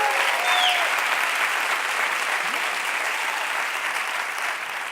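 A comedy show audience at a New Year's performance breaks into loud, sustained applause, a dense wash of clapping that stays even and close for the whole stretch before easing slightly at the end.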